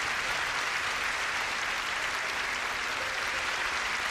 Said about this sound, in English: And let's applaud the Lord,